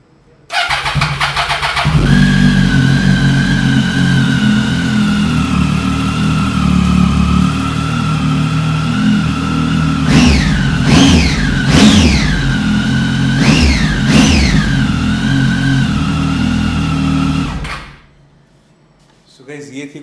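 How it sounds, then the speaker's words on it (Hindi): A Triumph 800 XRX three-cylinder 800 cc motorcycle with around 30,000 km cranks over and fires up, settling into a loud steady idle close by, then blips the throttle in four sharp revs before being switched off; talk runs over parts of it. "तो चलिए गाइस फायर अप करते हैं इसको, सुनाते हैं आपको ट्रायम्फ की आवाज़"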